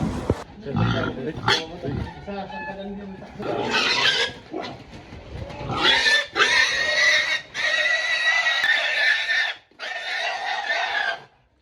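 A pig being caught for butchering in a mountain village squeals loudly and repeatedly in long, shrill bursts, close by, with brief gaps between cries.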